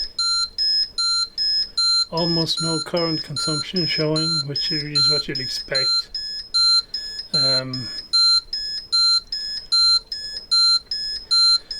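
A high electronic beep from an EV battery charger repeats in a steady rhythm throughout, while someone talks briefly over it partway through.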